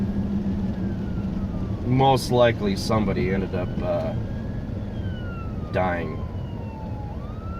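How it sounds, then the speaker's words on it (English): An ambulance siren passes on a street outside a moving car, its faint wail rising and falling beneath someone talking inside the car. "Here comes an ambulance."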